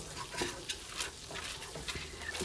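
Butter melting in a hot pan while making turkey Swedish meatballs: a soft, continuous sizzle with light crackles and occasional utensil scrapes, fairly quiet and close.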